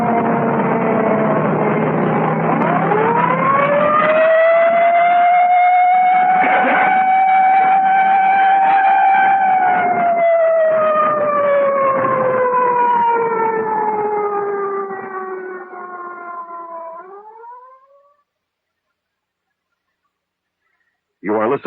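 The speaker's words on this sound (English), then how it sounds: "Kicking on that siren." A loud wailing siren rises, holds a long sustained tone, then slowly falls and winds down before cutting to silence; a brief burst at the end.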